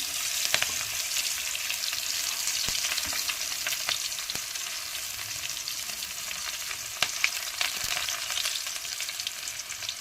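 Onion and chili fry in hot oil for a mixed vegetable curry. A dense, even crackling sizzle holds steady throughout, with a few sharp pops and ticks from stirring.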